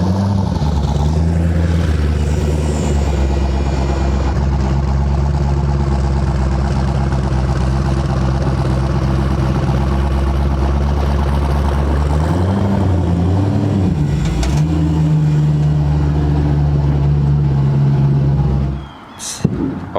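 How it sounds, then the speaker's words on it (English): A Mazda RX-7 race car idles and creeps onto a trailer, its engine rumbling loud and close in a steady drone with a few throttle blips before it shuts off. "So yeah, I'm gonna go ahead and load the RX-7 up now."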